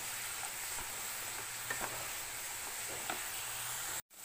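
Onions sauté in oil over high heat, giving a steady close hiss with a few soft stirring scrapes, ending in a brief cut of silence.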